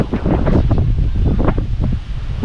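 Strong wind buffets the microphone in loud, continuous gusts with a roaring rumble, no voices.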